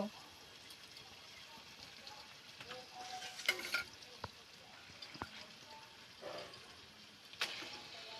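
Meat goes into a pan of spiced masala already frying, giving a faint sizzle with scraping stirs and a couple of brief clatters, while a voice talks quietly over the cooking.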